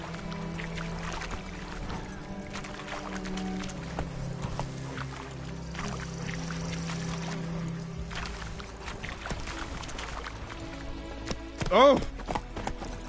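Hooves of Roach, Geralt's horse in The Witcher 3, clip-clop steadily at a walk under game music and ambience, ending with a brief louder burst near the close.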